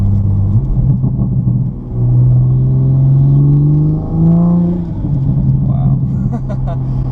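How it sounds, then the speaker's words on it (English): Tuned 2020 Toyota GR Supra with an aftermarket exhaust, a loud, steady engine rumble from inside the car as revs rise and fall, with talking over it. "the aftermarket exhaust, it just makes it louder, but it still cracks and burbles"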